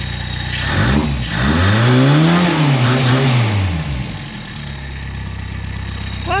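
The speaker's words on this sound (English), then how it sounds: "she revs like a saw machine, this old rig" An old Ford Fairlane engine revs up from idle, climbs and holds for a moment, then falls back to a rough idle. The rev is close and loud, with no talk over it.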